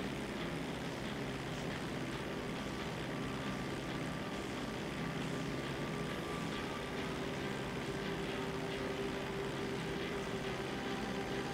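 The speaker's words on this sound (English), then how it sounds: "it is definitely been a while since I've been challenged to fly a plane" Propeller plane engine from GTA Online on Xbox One, flying low to the ground: a loud, steady droning hum runs unbroken through the whole stretch with no talking.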